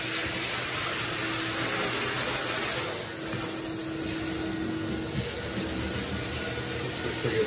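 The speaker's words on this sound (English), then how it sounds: "Here's Jeff vacuuming up the edges." A vacuum cleaner runs along the floor edges in a commercial bathroom during full-flake epoxy floor work, a loud continuous whooshing drone with a steady motor tone, slightly dipping midway, no talking.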